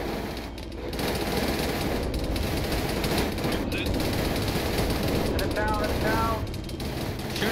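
Sustained suppressing machine gun fire rattles continuously in an ArmA 3 large-scale co-op battle, a dense, noisy burst-heavy wash with scattered distant shots and faint voices mixed in.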